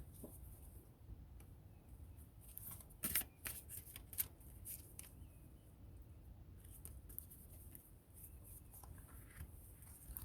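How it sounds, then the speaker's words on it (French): Tarot cards drawn one by one onto a surface in a quiet room: soft, faint rustles, slides and light taps scattered irregularly, with a small cluster of crisper flicks near the middle. "Nous allons tirer 3 cartes"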